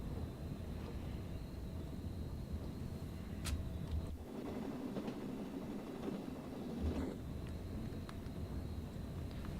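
A train passing in Train Sim World 3 on the Peninsula Corridor line: a continuous low rumble with rail clatter and a couple of sharp clicks, steady and fairly close for nearly ten seconds.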